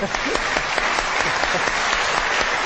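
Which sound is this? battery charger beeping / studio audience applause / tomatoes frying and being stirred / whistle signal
studio audience applause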